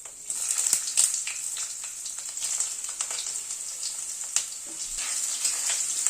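Potatoes hiss and sizzle in hot oil on a low flame over spices, a steady bright frying crackle close by with a few sharper pops, no talking.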